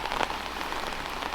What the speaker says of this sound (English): the rain is starting to come down a little bit more